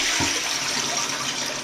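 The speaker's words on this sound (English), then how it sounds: "And then you can flush" A toilet flush plays from a child's 3D-printed toy flusher, a steady rushing, hissing wash of water that fills the whole moment without any talk.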